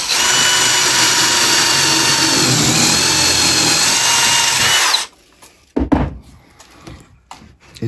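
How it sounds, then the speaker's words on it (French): A power drill fitted with a large bit, used with an eccentric screw jig, roars loudly and steadily for about five seconds, then stops, leaving scattered knocks and handling clatter. "On change de forêt, on prend la grosse mèche,"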